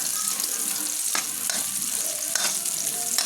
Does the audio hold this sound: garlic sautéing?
yes